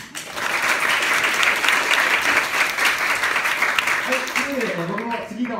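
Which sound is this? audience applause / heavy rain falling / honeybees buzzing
audience applause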